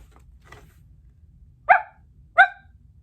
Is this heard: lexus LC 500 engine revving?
no